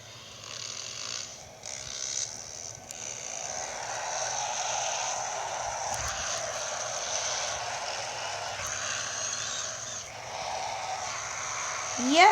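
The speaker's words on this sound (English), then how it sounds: "Now you can hear the engine more clearer." A KTM motocross motorcycle engine drones steadily at a constant pitch, holding a buzzing mid-level tone with slight dips and a brief louder rise at the end.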